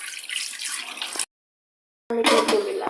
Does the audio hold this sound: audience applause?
no